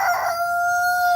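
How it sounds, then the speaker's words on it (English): An Ameraucana rooster crows close and loud, one short, steady, sustained call lasting about a second, with a somewhat awkward, flat tone and a quick drop at the finish. "that rooster is our Americana rooster, and he's been a pretty good rooster. I think he's got kind of an awkward crow"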